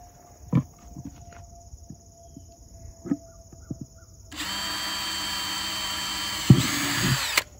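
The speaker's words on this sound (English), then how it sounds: "So I'm just gonna drill a hole real quick through the very center of this" A power drill bores a hole through the center of a PVC pipe part for a garden cover, starting after a few scattered knocks and handling sounds and then running steadily for about three seconds with a steady whine.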